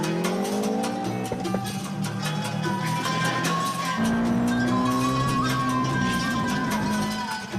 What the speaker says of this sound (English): 340 brake horsepower Subaru rally car.